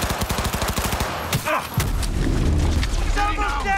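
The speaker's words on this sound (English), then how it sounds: "Keep firing, goddammit! I'm empty! Need to reload!" Gunfire in the video game Cyberpunk 2077 during a heist: a rapid burst of automatic shots followed by booming impacts and heavy rumbling, loud and close.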